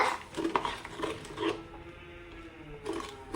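Light scraping and clinking of a utensil stirring sugar and water for syrup in a pan, in short irregular strokes, close by with no talk.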